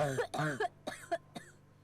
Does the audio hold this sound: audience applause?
no